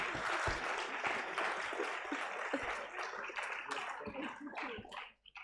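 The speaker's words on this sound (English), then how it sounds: "Let's have a round of applause for our winners" Audience applause at a moot court competition's valedictory ceremony, a fairly faint, dense clapping that carries on steadily before thinning and breaking into a few scattered claps at the end.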